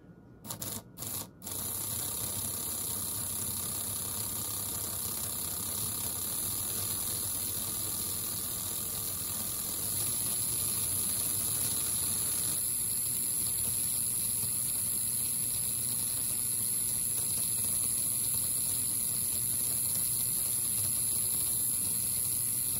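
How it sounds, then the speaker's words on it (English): The electric motor of an NSR Corvette C7R slot car runs steadily with a continuous even whine and hum, close and unbroken, after a few brief clicks at the start. "that's just the motor running a little smoother"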